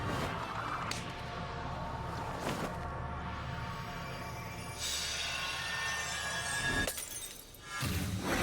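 A boss shatters in the Ivalice raids of Final Fantasy XIV: sustained loud crystalline breaking and crumbling with several sharp bursts, then a brief lull before another crash, with no voices.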